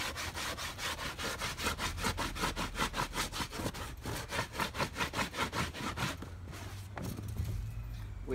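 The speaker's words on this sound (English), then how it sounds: "and sanding it." A stone rubbed over a stretched raccoon hide, a rapid rhythmic rasping of even back-and-forth strokes, close and steady, that stops near the end, with no talk.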